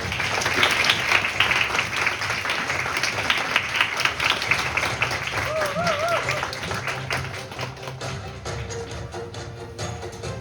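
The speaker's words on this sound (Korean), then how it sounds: "회장님 앞으로 나오실 때 큰 박수 부탁드립니다" Delegates at a Model UN closing and award ceremony applaud as an award presenter comes forward, a sustained round of clapping that gradually thins while faint music plays underneath.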